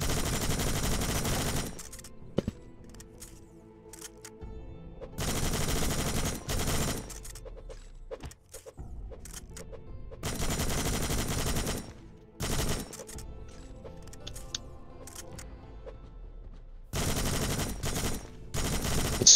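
Loud, sustained automatic gunfire in a zombie survival horror game, rapid bursts lasting a second or two each, repeated about half a dozen times with short pauses between them.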